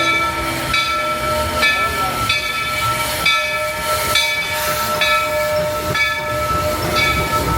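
The Walt Disney World Railroad train runs along behind Big Thunder Mountain at Magic Kingdom, giving a steady chugging rumble with rhythmic clanks roughly every second and a faint hiss, heard from on board.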